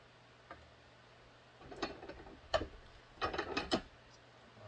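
Hand-setting 8/8 rivets, the head placed on the front side, gives a few sharp, close taps and knocks in uneven clusters over a quiet room hum, with no talking.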